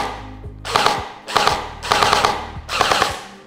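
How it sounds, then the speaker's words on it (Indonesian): Jinming J9 M4A1 gel blaster toy dry-firing with no gel balls fed yet: four close, loud bursts of rapid mechanical shots, each about half a second long, separated by short pauses. "jadi kita harus tembak kosongan dulu sampai si gel ball-nya naik"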